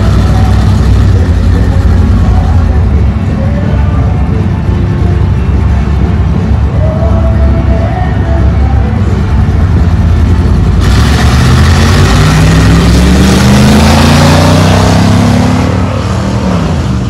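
A pickup truck's engine rumbles loud and close at a drag strip for bracket racing, idling heavily before the revs climb into a rising, sustained roar near the end.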